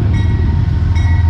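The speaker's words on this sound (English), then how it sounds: "Train is pulling out towards Albany." A southbound passenger train pulls out of Poughkeepsie station, a steady low rumble of rolling wheels and engine hum close by, continuous throughout with no speech.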